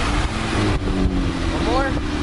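Straight-piped third-generation Acura TL engine drones loudly and close inside the car, dips briefly as the driver downshifts, and rises again with a rising whine. Talking is heard in the car and wind noise is audible.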